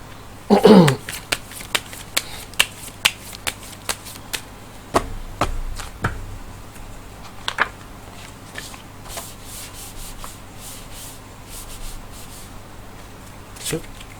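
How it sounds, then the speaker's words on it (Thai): Tarot cards being shuffled and handled, giving a quick run of crisp slaps and flicks at the start, then sparser card snaps and soft rubbing close by. "จะมาถึงเสียงไพ่ยิปซีดูให้เพิ่มเติมว่า ดวงชะตาคุณในวันนี้จะเป็นอย่างไรบ้างนะครับ"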